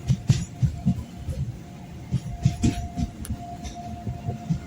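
MatsyaGandha Express train running between Mangalore and Barkur, with rhythmic low clatter of wheels on track and a steady rumble heard from inside the carriage at moderate level.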